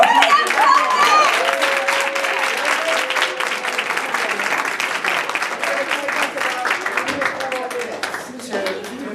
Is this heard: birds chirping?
no